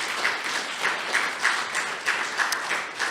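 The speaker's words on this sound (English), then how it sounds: "let's all give ourselves applause on that" An audience breaks into applause at a talk, a fairly soft, continuous wash of clapping with gentle swells, heard alone without speech.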